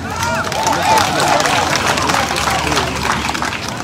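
A large crowd at a presidential election campaign rally in Côte d'Ivoire claps and murmurs in a steady, dense wash of applause close by, with voices mixed in throughout.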